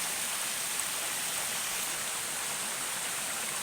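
Rain falls steadily in a forest in southern Laos, a dense, even hiss of drops on leaves and ground that stays constant throughout with no voices.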